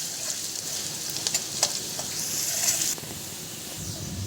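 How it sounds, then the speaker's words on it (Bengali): Garlic browning in hot oil in a pan for garlic paneer, a steady close sizzle with crisp crackles and brief stirring scrapes, the hiss easing slightly near the end. "রসুনটা একটু ব্রাউন করে ভেজে দেবো।"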